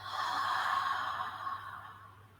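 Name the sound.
exhaling breath through the mouth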